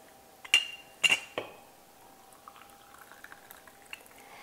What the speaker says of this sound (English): We're going to add some boiling water.